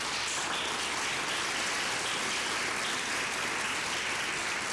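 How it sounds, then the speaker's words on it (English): Audience in a church clapping steadily, a dense continuous patter of many hands that fills the whole stretch with no voices over it. "Can we just give them a hand clap?"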